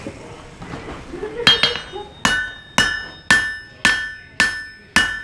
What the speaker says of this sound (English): What I'm going to do is I'm going to hammer it here and here.